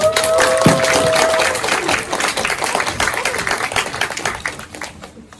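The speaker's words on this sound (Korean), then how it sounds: "우리 축복하는 마음으로 큰 박수로 환영할게요" A church congregation at a young adults' Sunday service claps to welcome the preacher: dense, sustained applause that starts full and slowly thins and fades over about five seconds, with a faint tonal hum early on.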